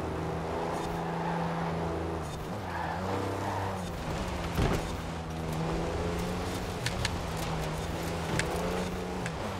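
A TopGear-styled Mercedes E-Class rally car drives offroad over gravel and mud in Forza Horizon 4. Its engine hums steadily with rising and falling revs through gear changes, along with faint rumbling surface noise. No voices are heard.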